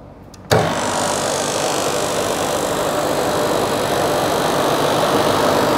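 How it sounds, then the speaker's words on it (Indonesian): A click gives way to an electric motor running in reverse on a student electrical installation competition panel, humming steadily and fairly loudly without a break. "maka motor akan running reverse dan H3"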